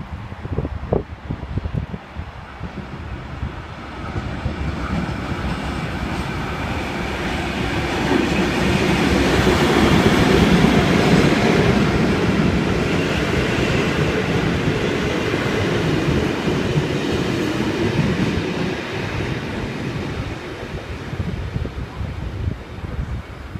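Sydney train with two 48S class locomotives hauling AK cars passes close by, a loud sustained rumble of diesel engines and rolling wheels that builds toward the middle and holds steady to the end, with no talk.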